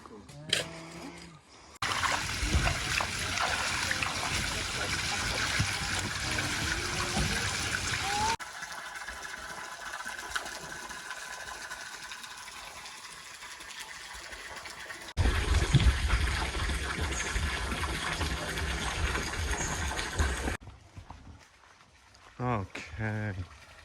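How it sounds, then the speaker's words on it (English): Water gushes steadily into a liner laid for a DIY natural swimming pool. The rushing, splashing flow runs on in long, fairly loud stretches that shift in intensity and break off near the end. "So we just wanted to put a bit of water in today to get this weight in the pond"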